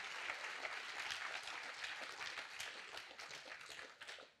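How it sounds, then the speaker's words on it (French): An audience at a tech conference keynote claps for the judges, a dense, sustained wash of many hands that stays steady and then tapers off at the end, fairly distant and soft. "Je vous demande de les applaudir bien fort."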